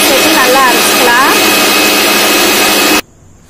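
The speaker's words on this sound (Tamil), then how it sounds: "எல்லாத்தையும் சேர்த்து நல்லா அரைச்சிக்கலாம்." A loud, whirring mixer grinder grinds pani puri ingredients steadily for about three seconds, then cuts off abruptly, leaving near silence.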